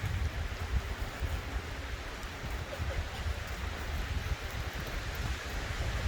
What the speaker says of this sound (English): I've never seen that kind of wind in trees in my life.